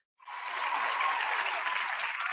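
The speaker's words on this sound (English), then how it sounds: "I can't hear you over all the loud cheering." A live show audience breaks into sudden, sustained applause that starts sharply and stays loud and dense through to the end.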